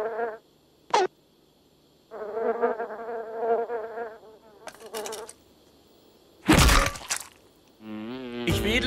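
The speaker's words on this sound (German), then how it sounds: "um die Fliegenschwärme zu verscheuchen, die auf meinen offenen Wunden sitzen" Swarms of flies buzz in high, whining bursts in a hot, cramped hut, recurring alone between quiet gaps with a few sharp louder noises near the end.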